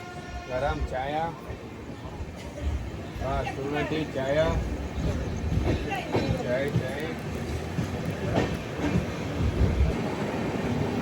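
A KSR Bengaluru–Nanded Express crossing another train on a single line near Raichur Junction, heard as a steady rumble of rolling rail cars, with voices speaking over the train noise throughout.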